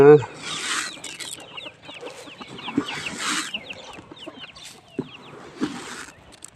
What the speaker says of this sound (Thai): ก็ไก่กินข้าวกันนะ